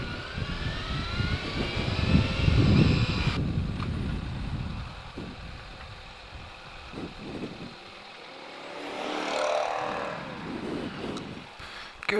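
A new BMW car drives past at speed. Its rushing engine swells loud, fades away, then surges again in a second, softer pass, with no talk.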